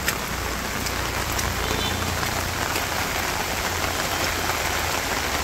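Steady rain pattering on an umbrella in a Bangladeshi village, a dense, close and even hiss of drops that continues without pause.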